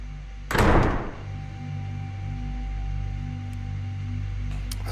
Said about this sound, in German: Aber die Türen sind wirklich verdammt laut, oder?